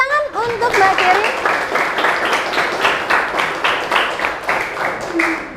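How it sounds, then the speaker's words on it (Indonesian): Classroom applause for a student who answered a question during a civics teaching assessment: a dense patter of many hands clapping steadily for several seconds, right after a brief spoken voice at the start. "Kasih tepuk tangan untuk Mbak Keri."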